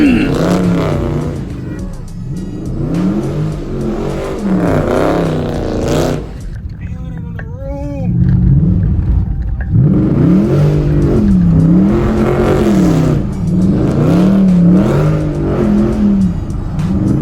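Dodge Scat Pack cars revving hard and spinning donuts, engines cycling up and down in loud repeated surges with a brief dip midway, and people talking and shouting over the noise.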